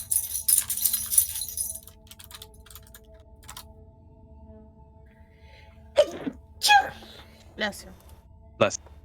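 A single sneeze bursts out partway through, followed by a couple more short vocal sounds, during an online tabletop role-playing session with keyboard clicking and faint tones early on and low steady background hum throughout.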